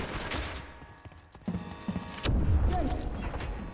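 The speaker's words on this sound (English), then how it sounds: "Tossing grenade." A grenade goes off in a video-game firefight, with sharp gunshot cracks and clanks followed by a heavy, rumbling explosion that lingers in the low end.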